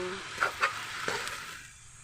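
Sautéed squash with soy sauce being stirred in a pan, with a few sharp spatula scrapes and clinks over a soft, fading sizzle, close and fairly quiet.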